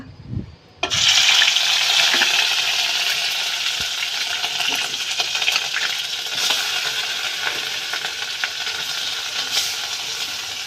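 Ginger, garlic and onion paste hits hot oil in a home kitchen, a sudden loud sizzle that bursts in after a brief clatter, then holds as a bright steady crackle, slowly easing.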